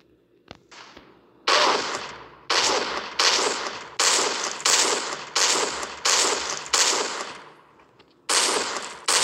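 Sniper rifle gunfire in a zombie video game: about nine loud, sharp shots in a steady rhythm roughly one per second, with a brief gap before the last two, and no talk over them.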